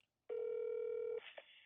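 A telephone rings on a call to a Chrysler dealership's parts department about a spare key fob for a 2021 Jeep Wrangler: one long steady ringback tone, clear and close, followed by a brief click and line noise.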